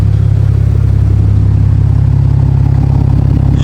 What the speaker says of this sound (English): This sounds like a 335i.